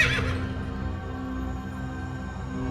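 A horse neighs as a sound effect in a historical battle story, a bright whinny at the start that trails into a sustained low, resonant rumble and hum of the scene.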